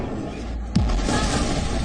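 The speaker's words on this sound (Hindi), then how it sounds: "एक धमाका" An explosion bringing down a tower in Kyiv: a single sudden boom rises out of a steady background rumble and then lingers as a noisy, distant roar.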